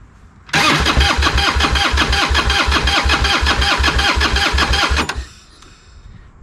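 A 1994 Harley-Davidson Heritage motorcycle with a stock OEM ignition cranks on its starter in a loud, close, steady rhythmic chug for about four and a half seconds, then stops without the engine catching.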